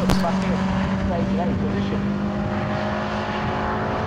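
Toyota MR2 race cars pass at Cadwell Park, their engines droning loud and steady and then fading into the distance, while a commentator talks over them.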